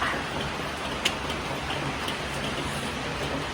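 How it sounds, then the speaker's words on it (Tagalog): Steady heavy rain pours down in a dense, constant hiss with no voices, one brief tap standing out early on. "Sobrang lakas ng ulan."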